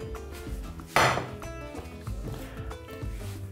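A small metal cooking pot being handled in a kitchen, with one sharp clank near the start, then lighter knocks and rattles over a low background.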